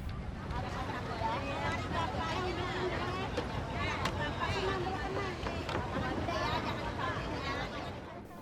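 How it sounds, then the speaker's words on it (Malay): Small boats move along at the Lok Ba Intan floating market near Banjarmasin, giving a low, continuous motor and water wash with wind buffeting the microphone, while voices murmur faintly in the background. "Satu demi satu perahu kecil muncul."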